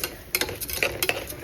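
Rice is being stirred and fried in ghee inside a pressure cooker, heard as a quick run of faint, close spoon scrapes and clicks against the metal pot.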